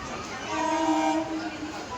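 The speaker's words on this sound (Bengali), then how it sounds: "ট্রেন চলে এসেছে" A passenger train pulls into a station sounding its horn, a steady tonal blast of about a second rising over a rumbling crowd and rail background.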